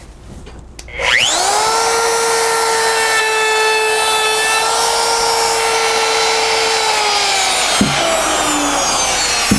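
A router whines up to speed and holds a loud, steady high-pitched tone while its bit cuts a slight bevel along the edge of a wooden sign, then cuts off near the end.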